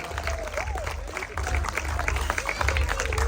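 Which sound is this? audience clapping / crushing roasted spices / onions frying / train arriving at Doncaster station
audience clapping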